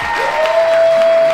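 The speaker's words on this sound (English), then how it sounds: "Let's give them a round of applause." Audience applause following congratulations to women leaders in Cincinnati, a dense wash of clapping with some crowd noise, loud and close, alone with no talk over it.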